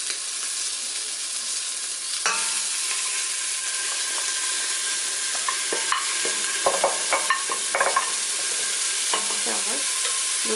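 Carrot, onion, mushroom stems and lardons fry in a pot for beef bourguignon, a steady close sizzle with scraping stirs and small clinks of the utensil against the pot, and no one talking.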